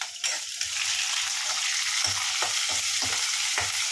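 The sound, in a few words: mustard seeds spluttering in hot oil for spinach sambar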